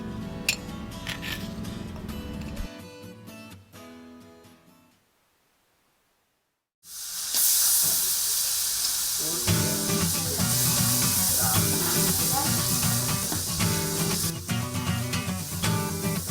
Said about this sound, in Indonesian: Semua bahan seperti bumbu, cabai, kacang panjang, dan tempe ditumis bersama hingga sedikit layu